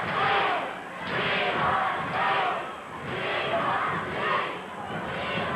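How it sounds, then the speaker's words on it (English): A large wrestling crowd in an arena chants in a steady rhythmic swell, the roar rising and falling about five times, loud and continuous with no clear talk on top. "Crowd is chanting, "We want Steve.""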